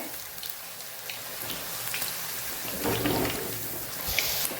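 Steady, dense crackling of sweet potato chips frying in hot oil in a wok over medium flame, a rain-like hiss that swells slightly toward the end.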